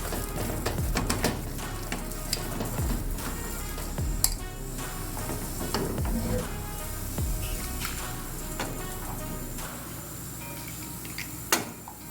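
Milk poured gradually into a béchamel sauce while it is stirred in a pan, a continuous soft sizzle with scraping and clinking of the spoon against the pan, no voices.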